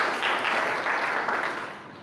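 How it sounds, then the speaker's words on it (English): An audience at a county climate change cooperation meeting applauds a presenter with a brief, fairly soft, even wash of clapping from many hands. "Let us clap for Joseph Akure."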